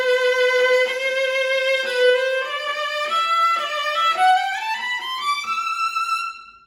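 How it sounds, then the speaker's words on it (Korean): A solo viola bowed close up with a violin-style grip, with weight pressed toward the index finger, plays a sustained, slowly rising melodic line. Its tone is bright and somewhat thin, and the notes connect smoothly. "똑같은 주법의 비올라를 해보겠습니다."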